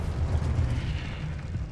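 The Confringo fire spell in Hogwarts Legacy lands as a deep, rumbling explosive burst that rolls on as a heavy, low boom for under two seconds, with no voices over it.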